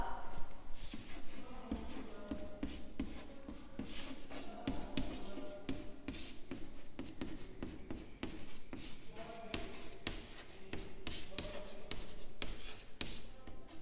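Chalk or marker writing on a classroom board, with a rapid series of close scratches and taps in uneven bursts, heard alone with no speech.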